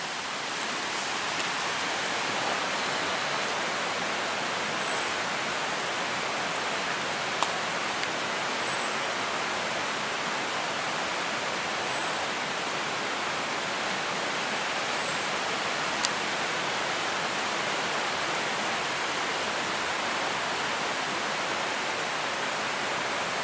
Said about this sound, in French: vous allez entendre l'eau qui court dans le ruisseau